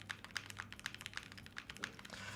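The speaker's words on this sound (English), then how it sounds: "So the spacebar doesn't sound too bad. It's a little bit sharp." Spacebar presses on a TG67 V2 custom mechanical keyboard, a quick run of about nine sharp, clacky taps heard close and alone in a quiet room.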